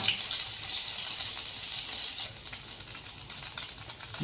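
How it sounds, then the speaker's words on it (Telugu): Cumin seeds fry in melted homemade white butter for palak paneer, a dense, steady bright sizzle that stays loud and constant, easing slightly partway through. "ఇది మెల్ట్ అయిన తర్వాత హాఫ్ స్పూన్ జీలకర్ర"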